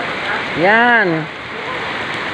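Heavy rain pours steadily at night in Jaro, heard from under the shelter of a bank building, a loud continuous hiss throughout, with one short spoken word over it.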